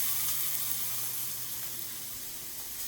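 Chicken pieces roast in a pan with freshly added oil, giving a steady, soft, even sizzle and hiss that carries on throughout without a break.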